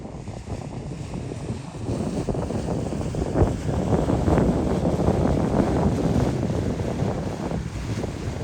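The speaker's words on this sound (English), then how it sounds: "Here comes a water taxi." A water taxi passes through a windy harbour in Victoria, its engine and hull wash blending into steady wind buffeting and lapping waves at moderate, continuous loudness.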